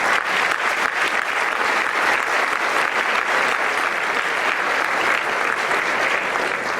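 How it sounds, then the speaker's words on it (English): An anniversary event audience applauds a trumpeter from a university band, giving a sustained, even wash of clapping from a large crowd, moderately loud and continuous throughout. "Let's applaud our great trumpeter, Mr. Vincent Miller of the TSU Aristocratic Band."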